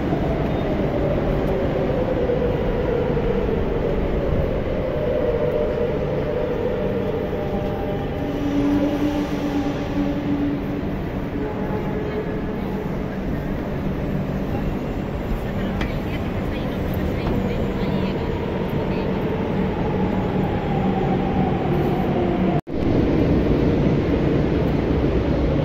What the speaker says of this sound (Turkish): Burası metro tren.